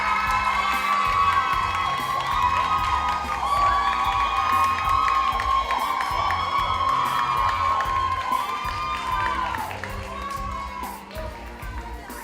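Audience at an awards ceremony for performing arts cheering loudly, with high excited shouts and whoops from many voices, steady and close for most of the stretch before easing slightly near the end.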